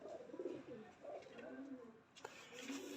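A Kasuri pigeon coos in a breeding loft, soft repeated throaty coos close by over a steady background hum, with a sharp knock near the end.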